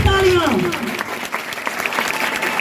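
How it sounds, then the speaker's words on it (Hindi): Loud applause from students in a coaching class breaks out after a voice briefly calls over it, then a dense, sustained clapping carries on to the end. "जोरदार तालियां इनके लिए"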